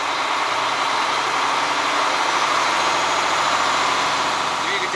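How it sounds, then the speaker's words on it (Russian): A KamAZ 5490 Neo truck engine idles steadily while warming up, a constant close, loud mechanical drone throughout with no breaks. "Двигатель прогревается дальше,"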